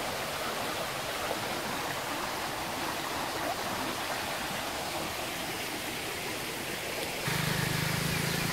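Rainwater runs through a village irrigation canal after a heavy downpour, a steady, full rushing flow heard close by without voices, growing slightly louder in the final second.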